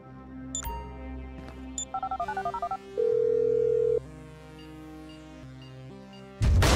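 Phone dialing in GTA V, with a string of quick electronic dial beeps, a sustained flat tone for about a second, then a steady ringing tone, ending in a sudden loud burst of noise.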